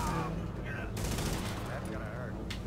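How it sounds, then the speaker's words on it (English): Gunfire from enemies shooting through tin in The Division, continuous crackling bursts over a dense game soundscape, with a sharp loud burst near the middle and another near the end. "they're shooting through the tin"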